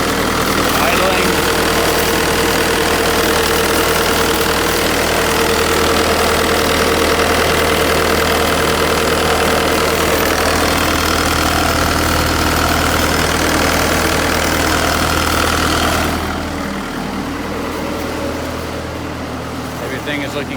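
A Bobcat T180 skid steer engine idles steadily with a rough, knocking rumble, loud and constant, then the tone drops and quiets slightly near the end.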